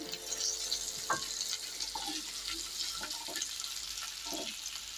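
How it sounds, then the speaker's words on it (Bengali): Potatoes frying in a pan while being stirred, a faint steady sizzle with scattered soft scrapes and clinks of a utensil against the pan. "আমি এবার এগুলো একটু একটু নাড়াচাড়া করে একটু ভাজা ভাজা করে নিচ্ছি"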